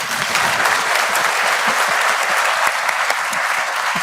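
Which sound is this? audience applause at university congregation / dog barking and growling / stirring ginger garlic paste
audience applause at university congregation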